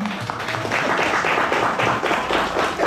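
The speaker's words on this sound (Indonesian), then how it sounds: "Mana tepuk tangannya?" Audience applause and clapping at a business development training seminar, a dense steady patter of many hands at fairly even loudness through the whole stretch, with a few voices mixed in.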